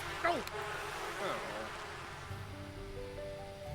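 Bees in The Sims 4 make a faint, steady buzz with a few rising and falling whines under a soft game background.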